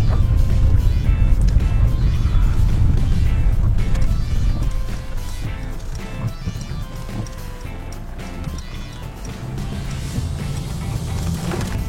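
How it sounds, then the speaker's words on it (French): Mercedes CLS 350d diesel car driving on the road, a continuous low rumble of engine and tyre noise that is louder at first and then eases to a steady, softer cabin hum. "Alors on va aller un petit peu sur la route avec cette nouvelle CLS"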